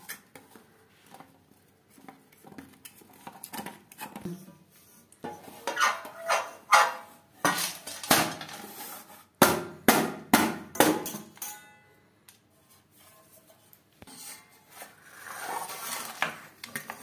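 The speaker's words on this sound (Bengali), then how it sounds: "একটা ছুরির সাহায্যে 4 সাইডটা ছাড়িয়ে নেব।" A knife runs around the four sides of a still-warm eggless cake in its pan, giving sparse metallic scrapes and taps that build into a cluster of sharp clinks midway, then fade to softer scraping.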